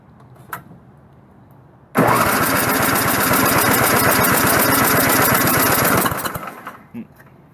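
A snowblower engine catches after a quiet moment and roars into a loud, steady, rapidly pulsing idle close by, running for about four seconds before cutting off and fading.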